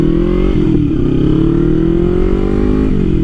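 A 2016 Kawasaki Ninja 300 ABS KRT motorcycle fitted with a bigger front sprocket accelerating, its loud, close engine revving with rising pitch and a brief shift partway through.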